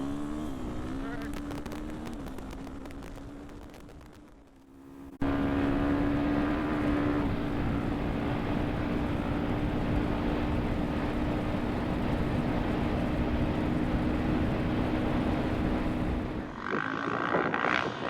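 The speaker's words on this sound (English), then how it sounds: "I'm gonna be showing you the clutch here as I take off and go to high speed" A dual sport motorcycle pulls away and climbs through first, second and third gears to high speed; a steady engine drone with rising tones runs close and loud, easing before a sharp jump in level midway.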